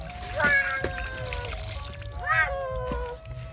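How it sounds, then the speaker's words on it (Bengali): Water poured into a pot for a village-style fish curry over a wood-fired stove, two short splashing pours against faint background noise and tonal chirps. "এখন দিয়ে দিম পানি"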